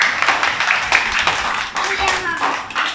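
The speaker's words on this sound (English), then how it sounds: "Clap for Nareem." Young playgroup children clap for a classmate in a classroom, a steady patter of small hands close by, with voices mixed in throughout.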